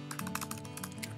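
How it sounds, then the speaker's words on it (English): Quick, even keystrokes tap on a computer keyboard in a close, steady run of clicks, heard alone. "in the address bar you're going to want to type in"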